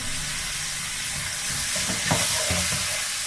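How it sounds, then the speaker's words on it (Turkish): Tomatoes frying in a pan with spices, a steady close sizzle with brief louder bursts of crackling and stirring partway through. "Domateslerimi şöyle birkaç dakika kadar kavuracağım."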